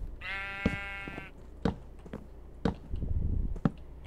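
Sheep bleating in a survival building video game: one clear, wavering bleat near the start, followed by sharp tapping clicks and soft game sounds, with no speech.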